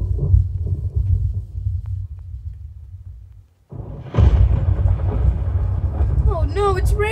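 Deep thunder rumbles low and heavy, cuts out briefly, then rolls back in louder, with voices speaking over it toward the end.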